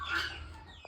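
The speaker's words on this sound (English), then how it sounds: "these are my chickens." A chicken in a Kenyan village gives a single brief, faint cluck, quiet and somewhat distant, with nothing else prominent around it.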